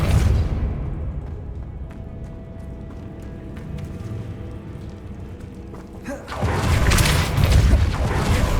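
A Depulso force spell going off in Hogwarts Legacy: after a quieter stretch of game ambience, a sudden loud, broad whooshing blast erupts and holds as a rumbling surge to the end.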